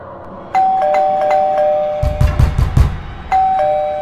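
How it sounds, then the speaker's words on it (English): A doorbell in an animated horror story rings a two-tone ding-dong three times, loud and close, with a burst of rapid knocking or thumping between the chimes. "every time he hears a knock or doorbell sound"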